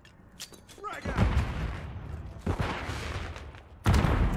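Gunfire in the Call of Duty MW3 video game, with a quick rising effect followed by several booming shots and rumbling blasts, loud and close, a heavy hit near the end.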